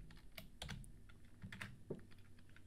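Rapid, uneven clatter of keys on a computer keyboard while JavaScript code is written, close and moderately loud, steady irregular taps with a few harder strikes, no voice.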